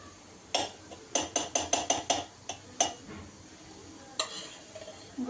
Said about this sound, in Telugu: ఇప్పుడు దీంట్లోనే నెయ్యి వేద్దాం ఇప్పుడు ఐలో పెట్టుకుందాం